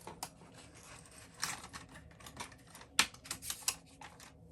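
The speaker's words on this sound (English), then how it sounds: "So I'm just going to bring my needles forward and put these cards there to keep them in" Knitting machine needles are pushed forward and green cards slotted in place, giving a run of light plastic-and-metal clicks and taps, some sharper knocks among them, quiet and close with no talk.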